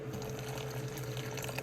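Boiling water is poured from a spouted container, a steady close liquid trickle and gurgle with a faint constant hum underneath.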